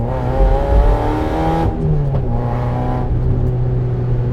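A car accelerating hard on the road, its engine note rising steadily and droning loud and close throughout, with no talking over it.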